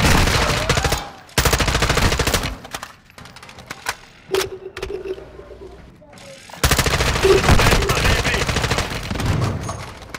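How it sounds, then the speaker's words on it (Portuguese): Rapid automatic gunfire from the video game Call of Duty: Modern Warfare II, loud dense bursts separated by a quieter lull with scattered single shots, while players talk over it. "Estão atirando em mim."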